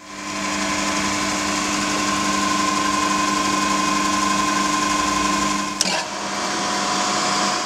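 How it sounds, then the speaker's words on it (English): An FTV3 turret milling machine runs with its gearbox and spindle engaged, giving a loud, steady whining hum throughout, broken only by a short click near the end. "First, we activate the gearbox. Then we activate the spindle and the ram down feed."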